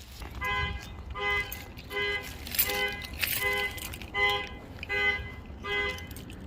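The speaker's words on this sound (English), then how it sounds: "Set the alarm off on the truck at 7:30 in the morning." GMC Sierra pickup truck alarm blaring in repeated short tonal blasts, a rhythmic pattern of roughly six bursts at steady intervals, moderately loud over faint background noise.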